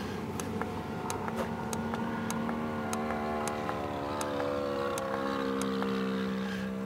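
Electric RC airplane, a Great Planes Revolver, its motor spinning a 16x16 propeller at high speed: a steady, loud droning whine with a rising harmonic pitch and regular faint ticks, heard continuously and alone.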